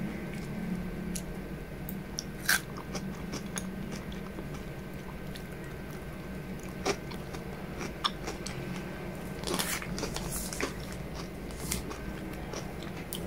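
Close, continuous chewing of crunchy chocolate cereal, moist crunches and squishes repeating steadily with occasional sharper clicks, no talking.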